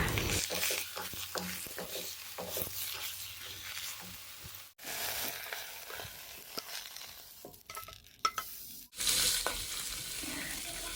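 Sliced pork sizzling and stir-frying in a little oil in a pan while Chinese-style cabbage is cooked, with a steady loud hiss and occasional scraping stirs, close up and with no talk.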